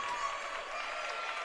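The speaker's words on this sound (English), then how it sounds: "So everybody's cheering for that too." A crowd at a college stunt competition, Mars Hill versus Coker, cheers and claps in a steady, dense wash of applause, moderately distant.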